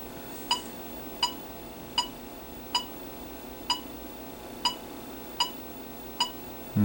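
A 1979 Atari Video Pinball arcade board sits in test mode and gives off repeated short electronic beeps, about eight evenly spaced chirps at a steady rhythm over a quiet hum.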